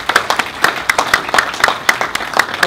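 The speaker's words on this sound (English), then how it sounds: "how about everyone give yourself a round of applause" Scattered hand clapping at a memorial gathering, a series of sharp claps from a small group, fairly close and steady throughout with no talk over it.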